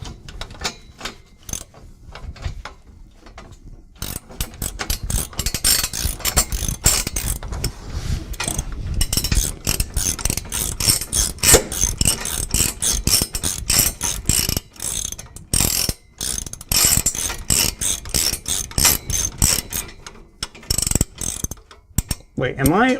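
Two ratchet mechanisms clicking against each other while working on a turbocharged Mazda Miata build, a steady rapid run of loud, close mechanical clicks with short pauses, no talking.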